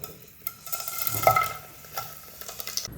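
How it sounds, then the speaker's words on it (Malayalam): Spices fry in hot sunflower oil in a steel cooker while manthi is being made, with a close, steady sizzle and a few metallic scrapes and clinks of a spoon against the pot; no one speaks. "ഒന്ന് ചൂടായി വരുമ്പം നമ്മൾ റെഡിയാക്കി വെച്ചിട്ടുള്ള സ്പൈസസൊക്കെ ചേർത്ത് കൊടുക്കുകയാണ്."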